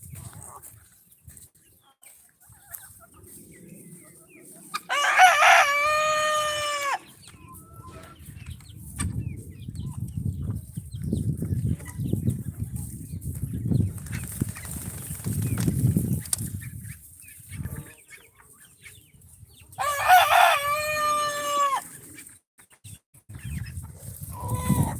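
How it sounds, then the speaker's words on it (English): Chickens, meat birds and other poultry let out on a farm give two bursts of loud clucking and squawking with flapping wings, over steady low outdoor rumble and shuffling between calls. "let me let the meat birds out and the other birds."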